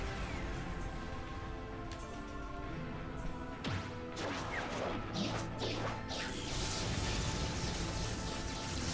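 Enemies in the video game Asura's Wrath moving with groaning, creaking metallic sounds like bending girders, mixed with crashes, whooshes and heavy impacts in a busy game soundtrack, no talking.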